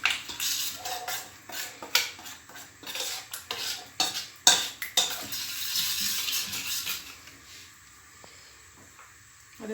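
Fish pieces being stirred in oil in a baking dish, with repeated scraping and clinking of a utensil against the dish in irregular bursts, close and fairly loud, easing off toward the end.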